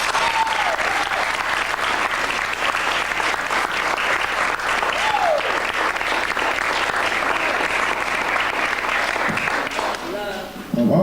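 A large audience at a 2001 festival claps steadily and loudly for the full stretch, a dense sustained wash of hands with a few faint voices and whoops mixed in, easing slightly near the end.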